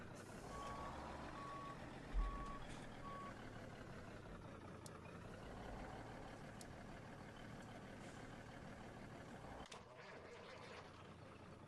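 A truck in Farming Simulator 17 sounds a repeating reversing beep, four or five evenly spaced tones over a constant engine drone, followed by a short air-brake hiss and continued idling.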